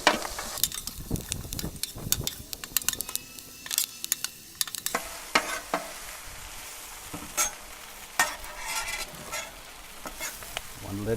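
Greens mixed on a hot griddle with a spatula: repeated sharp metal scrapes and taps over a constant close sizzle, strokes coming in an irregular rhythm.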